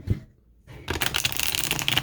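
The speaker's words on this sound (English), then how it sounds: "I'm going to take and shuffle my deck this way" A deck of tarot cards is riffled and shuffled close by, a quick burst of crisp flapping and fluttering after a brief tap and a pause, with no talking.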